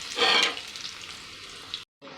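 Chillies and curry leaves sizzle in hot oil as a tempering for raw mango pachadi, a loud burst of frying at first that settles into a steady hiss, then cuts off briefly.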